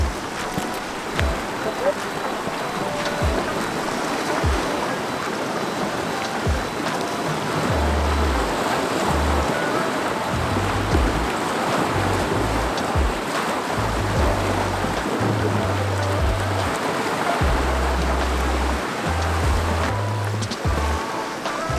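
Ocean waves wash steadily along a shoreline, a continuous broad roar with wind running underneath and occasional low thumps nearby.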